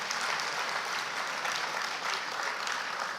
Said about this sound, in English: Please, can you help me clap for staff of the NEPC?